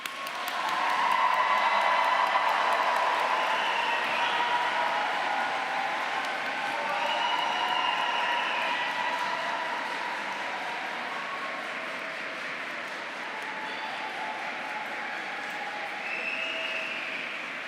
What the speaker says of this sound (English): So I would like to ask you to applaud all those who have supported you.